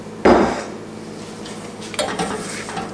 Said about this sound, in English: And you just want to stir it up, get all that goodness out of that bowl